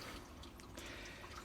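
Water trickling and dripping steadily through worm farm bedding into a bathtub, a soft continuous patter close by with no voices.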